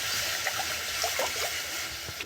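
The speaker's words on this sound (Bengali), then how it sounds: "আর কড়াতে আমি একটু জল দিয়ে দেবো।" Water is poured from a gas-fired wok in a steady, close trickle and splash that runs throughout and briefly changes at the end.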